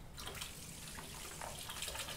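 Steady rush of running water from a tap, close and continuous, with faint clinks of dishes being rinsed underneath.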